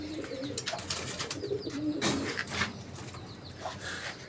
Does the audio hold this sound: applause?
no